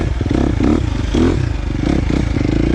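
KTM 350 XC-F dirt bike engine with Vortex ECU tune, ridden in second gear, chugging and revving at close range in uneven pulses with some clatter, alone without talk.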